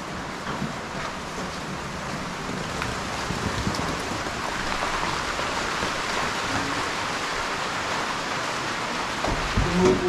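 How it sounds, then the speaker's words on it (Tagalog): Steady rain falls outdoors around a house, a dense continuous hiss of drops on surfaces with no talk, holding an even level throughout with a slight swell near the end. "Umuulan kasi."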